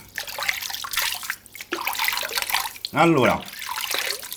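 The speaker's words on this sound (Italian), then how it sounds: "andiamo a mettere subito un po' di acquetta nel sapone" Water trickles and splashes into a bowl of shaving soap, a short burst of pouring near the middle, heard under someone talking in Italian.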